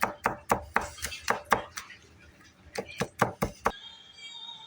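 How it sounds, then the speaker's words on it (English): A knife chops garlic finely on a cutting board in a quick run of sharp, close knocks, pausing briefly before another burst of chops. "Chop it up real fine"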